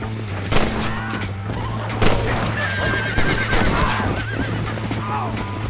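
A horse in the video game Red Dead Redemption whinnies and neighs over clip-clopping hooves, with distant gunfire and a voice in the background.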